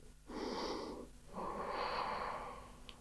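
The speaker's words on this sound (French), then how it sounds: "On reste pour 5 respirations." Slow, deep breaths during a beginner Ashtanga yoga pose held with arms wrapped behind the knees: two long airy exhalations with a short pause between, close and fairly loud, no talking.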